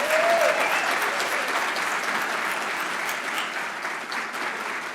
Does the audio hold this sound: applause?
yes